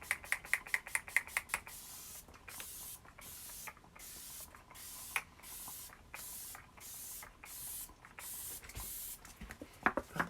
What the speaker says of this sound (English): let me spray this really quick